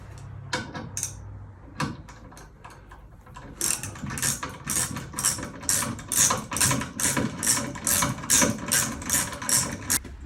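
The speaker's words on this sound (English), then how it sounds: "This ratchet isn't the best." A hand ratchet wrench clicks in quick repeated strokes while tightening bolts on a heavy wooden box assembly, close and loud, with a few sparse clicks first and then a steady rhythmic run.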